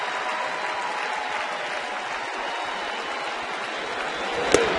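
Baseball crowd at a Phillies–Braves game in Atlanta, a broad steady wash of applause from a large stadium audience, fairly distant and sustained, with one sharp crack near the end.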